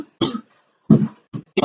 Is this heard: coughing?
yes